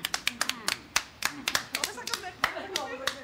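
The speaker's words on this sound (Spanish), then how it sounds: "¿Qué pasa que no aplaudís?" Sparse, uneven hand clapping from a small group in a comedy sitcom scene, distinct sharp claps in an irregular rhythm, fairly close.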